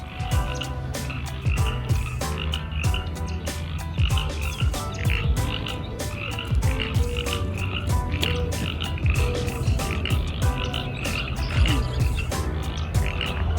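Baby frogs croak densely and continuously outdoors during a run, a steady chorus of overlapping calls close by and fairly loud, with no talk over them.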